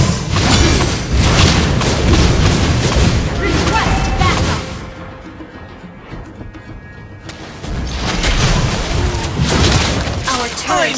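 Mobile Legends turret destroyed in a loud explosion: heavy booming blasts and crashing impacts pile up with game voices, thin out to a quieter stretch midway, then return at full force.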